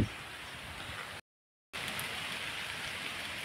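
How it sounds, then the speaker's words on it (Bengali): Steady rain falls outdoors on an overcast day near a guava tree, a dense even hiss of drops with a brief gap of silence partway through, no voices. "দেখেন আকাশে বৃষ্টি হচ্ছে"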